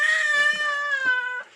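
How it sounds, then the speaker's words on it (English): A baby shrieks in excitement at the sight of a kitten, a single sustained high-pitched squeal lasting over a second, loud and close, with no talking. "He's screaming because he's seeing the kitten."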